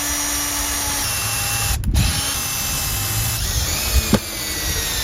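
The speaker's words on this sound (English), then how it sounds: "So now I'm going to screw this all together" A power drill drives screws into wooden clock parts in a few short bursts of whirring, close and fairly loud, with brief pauses and handling clicks between runs.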